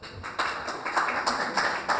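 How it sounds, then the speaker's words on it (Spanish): A small studio audience on a talk show applauds a guest journalist as she is introduced, with short, uneven bursts of clapping that come in separate waves over two seconds and no voices. "Por favor, un aplauso para María Olivia Monquer"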